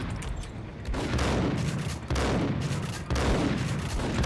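Shotgun blasts in the Max Payne video game's steel factory level: heavy, loud gunfire reports land about once a second over a dense, continuous roar of battle.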